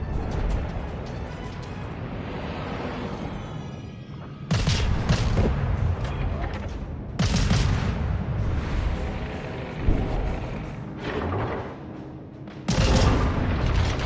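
Gunfire in a video game shooter, with loud bursts of booming shots and rapid volleys arriving in clusters, separated by quieter stretches of game ambience.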